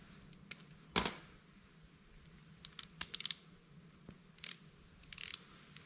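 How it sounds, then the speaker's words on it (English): A torque wrench tightens a bolt set to 156 inch-pounds on a Honda EU3000IS generator during an oil change, giving faint, sparse metallic ratchet clicks at close range over a quiet, low hum. "So that's what I'm going to set the torque wrench to."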